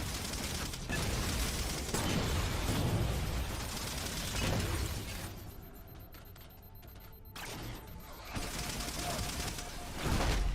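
Rapid bursts of video-game gunfire from Halo 4 crack and rattle almost continuously, with a brief quieter lull in the middle before the shooting picks back up, loud and close.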